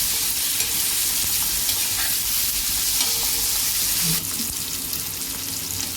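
Onions cut into large chunks frying in a pan while being browned for a Maharashtrian pithla (besan curry): a steady, close, continuous sizzle with faint stirring, no voices.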